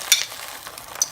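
Beaten egg hits a hot frying pan for an omelet, giving a couple of short, sharp sizzling bursts close up with no talk.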